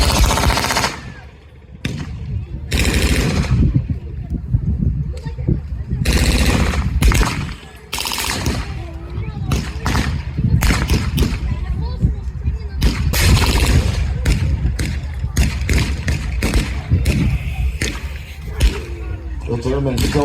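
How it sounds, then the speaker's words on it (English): Rapid bursts of machine-gun fire rattle through a tank battle reenactment, with blank-firing guns chattering in repeated loud volleys amid other battlefield noise and voices. "absolutely pinned down by machine guns."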